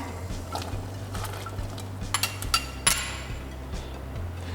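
Chunks of pumpkin drop into a pot of boiling water, giving a few sharp clinks and knocks against the pot over a steady low hum, with no talking.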